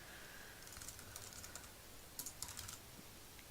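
Fingers tap on a computer keyboard in short bursts of quick, fairly faint clicks, with a brief pause between bursts and no speech.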